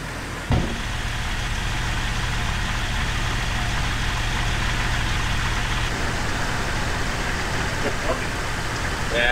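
A car engine idles steadily in a garage after an oil leak repair, a low continuous hum holding for the whole stretch with a brief thump near the start and a faint clank later; a person speaks over it.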